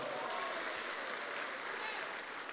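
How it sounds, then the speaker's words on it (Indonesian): Audience applause at a PT BES business seminar, a dense steady wash of clapping that holds loud and even from start to finish, with no speech heard over it. "Tepuk tangan untuk Anda semua."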